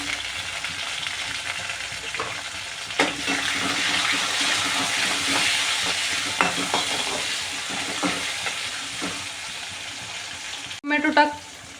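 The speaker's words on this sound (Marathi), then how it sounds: "त्याला छान आपल्याला तेलात परतून घ्यायचे। तुम्ही ही टाकत असता एक टोमॅटो टाकते मी कट करून।" Chopped tomato sautéing in hot oil with green chillies, giving a steady close sizzle with scraping stir strokes throughout and a brief clatter near the end.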